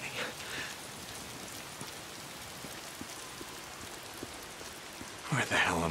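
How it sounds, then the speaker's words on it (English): Steady rain patters on the ground in the video game Days Gone, a soft, continuous hiss with scattered drops. A short louder sound comes in at the very end. "Why is it always raining?"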